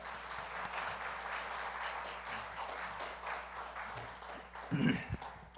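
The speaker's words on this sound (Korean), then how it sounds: "우리 할렐루야로 또 박수로 모시겠습니다." Korean church revival meeting applauding to welcome a visiting preacher, a moderate, continuous patter of clapping from the congregation with a brief louder burst near the end and some voices mixed in.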